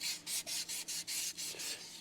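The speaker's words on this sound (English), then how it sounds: "Let me get some emery cloth and try to clean it up with that." Fine 600-grit emery cloth rubs a metal engine lifter from an old 1932 Ford hot rod in quick, regular back-and-forth strokes, about nine rasping passes close up and fairly quiet.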